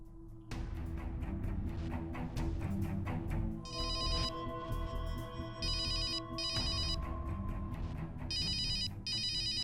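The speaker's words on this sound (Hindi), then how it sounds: "असीम रात के 2:30 बजे क्यों फोन कर रहा है?" A phone ringtone plays loudly and close in the middle of the night, a repeating electronic melody in bursts with short gaps, with no talking over it.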